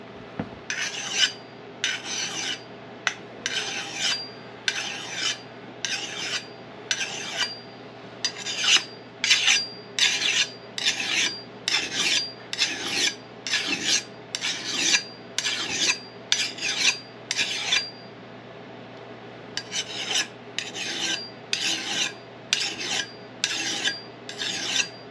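A tomahawk axe blade is sharpened with repeated rasping file strokes, a steady rhythm of close, scraping passes with a brief pause midway, with no talking.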